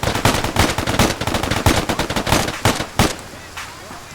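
Rapid bursts of automatic gunfire laying down suppressing fire in a military video game set in Chechnya, loud and dense with overlapping shots that thin out near the end, with voices talking underneath.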